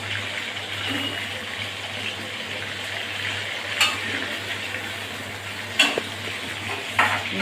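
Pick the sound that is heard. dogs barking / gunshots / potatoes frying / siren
potatoes frying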